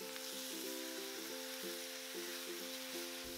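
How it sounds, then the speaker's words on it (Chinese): Beef and sauce are stir-fried quickly with green onion in an iron wok, giving a faint, even sizzle under a steady humming drone with soft, irregular scraping taps. "快速的给它翻炒。"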